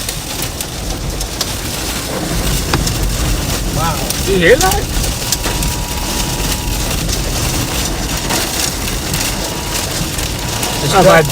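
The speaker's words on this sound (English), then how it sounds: "this is like a good, just sustained 60, 70 mile an hour wind here." Sustained 60 to 70 mph storm wind during a tornado warning in Oklahoma roars as a loud, steady broadband rush with gusting swells, while voices exclaim over it.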